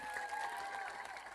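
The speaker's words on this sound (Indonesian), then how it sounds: "Tepuk tangan untuk Madiun" A crowd at an outdoor sermon in Madiun claps in the rain, a dense, steady wash of applause that holds through the whole brief moment without a break.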